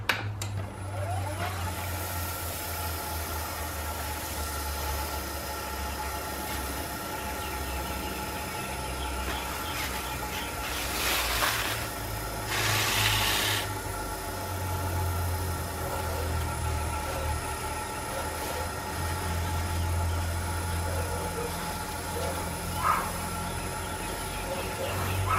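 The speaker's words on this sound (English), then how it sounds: "I'm just going to put on a very little bit, and then just apply it with the lathe running" A wood lathe spins a spalted silky oak hollow form while Danish oil is rubbed on with a paper towel, giving a steady low motor hum with faint rubbing, and someone talks throughout.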